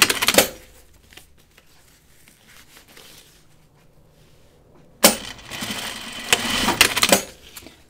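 A sewing machine tacking fabric for a dopp kit, short mechanical bursts of rapid stitching at the start and again in a longer run near the end, separated by quieter pauses with faint handling noise.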